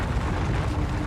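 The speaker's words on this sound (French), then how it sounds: "mais celles qui font boum explosent en 1000 morceaux." A deep, rumbling supernova explosion effect, a dense, loud low-end boom that rolls on steadily for about a second with no distinct attack or decay.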